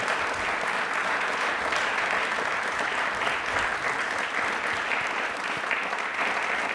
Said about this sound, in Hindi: तालियां इसरो की पूरी टीम के लिए जोरदार होनी चाहिए।